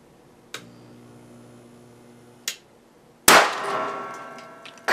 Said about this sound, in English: Last shot at this annoying little toy is going to go through the speaker leads.